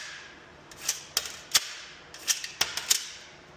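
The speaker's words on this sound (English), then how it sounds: "we'll just pull the bolt back, release it, let it go forward, full speed as if firing" An AS VAL bolt is released forward repeatedly to feed a 3D-printed magazine, giving about six sharp metallic clacks spaced over a few seconds, close and alone in a quiet room.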